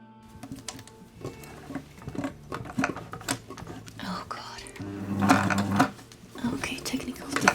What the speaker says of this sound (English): you can sew this all with one straight stitch